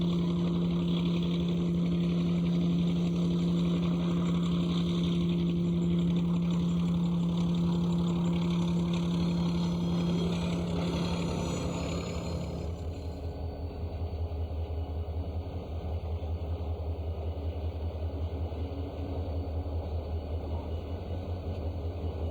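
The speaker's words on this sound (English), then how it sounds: "First-generation diesels still work hard on many Arizona shortlines." First-generation diesel locomotives idle and work on an Arizona shortline railroad, a steady loud engine drone with a held tonal hum that drops to a deeper rumble partway through.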